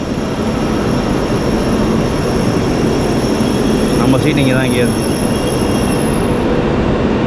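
A high-speed bullet train roars steadily nearby at a railway station with a constant loud rush, and someone speaks briefly over the noise.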